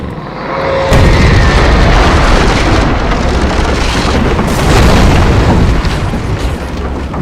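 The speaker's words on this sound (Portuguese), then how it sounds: "Vou jogar uma granada de luz." A flash grenade goes off in the Alan Wake video game, a sudden loud boom that settles into a dense, sustained roar of noise lasting several seconds. No talk is heard over it.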